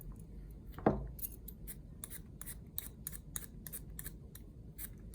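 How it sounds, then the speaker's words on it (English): A vegetable peeler on carrots and a potato, one firm scrape followed by a rapid, regular series of short rasping strokes, close and fairly quiet with nobody talking. "we're gonna peel our carrots, and hopefully you have a peeler at home just to get the skins off"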